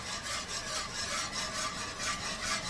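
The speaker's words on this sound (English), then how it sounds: "we're just going to keep whisking this till we get most of our liquid that was in the pan" A whisk beats the liquid in a pan for a slow-cooker pot roast gravy with onions. A rhythmic, continuous scraping swish runs close and steady, and no voice is present.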